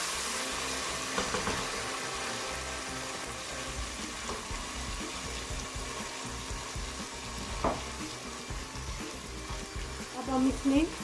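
Garlic-ginger paste hits browned onions in a pan for a beef trotter curry, giving a steady, close sizzle and spatter that runs throughout, with a brief louder crackle near the end and no clear talk.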